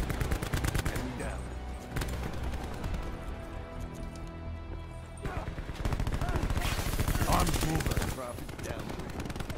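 Black Ops 4 team deathmatch gunfire, with loud rapid automatic bursts and clustered shots rattling almost nonstop, dense and close, while a player talks over the action.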